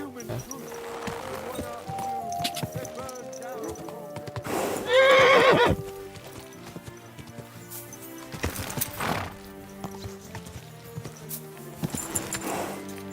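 A horse whinnies loudly mid-clip in a video game over steady hoofbeats and a busy game soundtrack, with a few more sharp whinny bursts later on.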